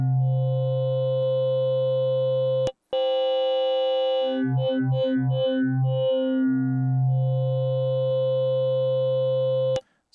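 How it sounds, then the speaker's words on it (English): Pot Gong, a wavetable patch on a Sequential Pro 3 synthesizer, plays sustained metallic bell-like tones with a bassy low layer, broken mid-clip by a quick run of short pulsing notes, then a long held chord; no voices. "So this one again has a lot of good metallic bell type tones and some bassy tones in there."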